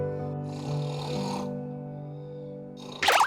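A voice imitates a father's heavy snoring, giving one long rasping snore that stretches for nearly three seconds before a sharp snorting burst at the end.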